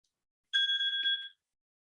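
A short electronic alarm sounds alone in quiet for under a second, a clear steady ringing tone with bright harmonics and a brief stutter near its end.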